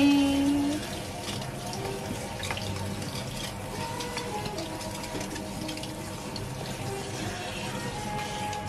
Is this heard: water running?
yes